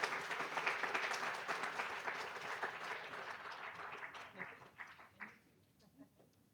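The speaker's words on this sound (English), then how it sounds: "let's give them all a round of applause" An audience at a resident council annual meeting claps in steady applause that gradually fades away into scattered claps, with some talk underneath.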